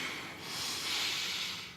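A person draws in a slow, deep breath through the nose, a soft close airy inhale that swells and fades over under two seconds, with no talk.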